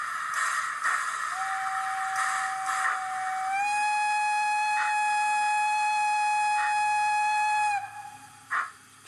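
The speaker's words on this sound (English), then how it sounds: "And then we have a long whistle" Long whistle from a sound-fitted Rapido LBSCR E1 model steam locomotive, a sustained tonal blast that rises in pitch partway through and holds for several seconds, with brief chuffing bursts underneath.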